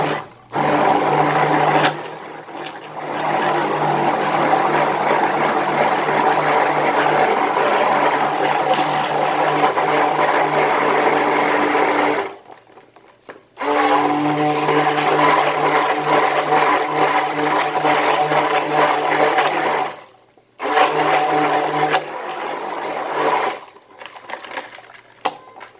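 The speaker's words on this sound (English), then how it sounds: "let's take it out of this and begin to whisk it directly" Steady, loud electric whirring of a mixer whisking a refrigerated body butter mixture, running continuously with two brief stops and restarts.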